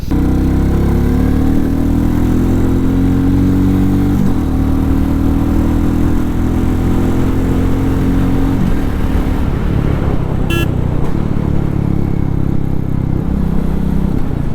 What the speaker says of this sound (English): Now the Classic 350 now picks up pace really very nicely